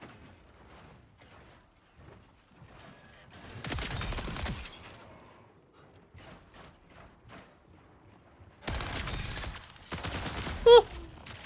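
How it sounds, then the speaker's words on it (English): Suppressed gunfire in the shooter game Marathon comes in two dense bursts of muffled rapid shots between quieter stretches, with a person talking in between. "Oh, it sounds so nice with the suppressor."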